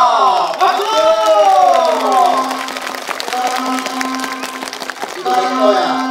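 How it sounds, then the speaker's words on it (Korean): Audience cheering and clapping at a Korean folk village outdoor comedy performance of a magistrate's birthday feast, loud continuous crowd noise with shouts and whistles throughout, a sustained tone running beneath. "박수!"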